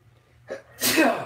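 A single sharp sneeze with a brief inhaled buildup just before it, close and loud, with no talking.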